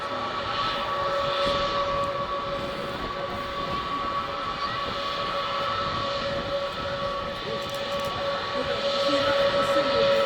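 A loud, steady jet engine roar with a whining tone holds throughout, swelling slightly near the end, from an Emirates Airbus A380 using reverse thrust while landing.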